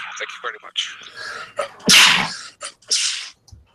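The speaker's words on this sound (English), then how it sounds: "The sneeze that was heard around the world." A loud, sharp sneeze bursts out near the middle, set among people chatting on a live show, with talk before and after.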